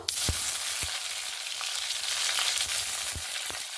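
Tomato and other vegetables fry in a pan for a vegetarian bottle gourd dish, giving a steady close sizzle with a few low thumps of stirring and no voices.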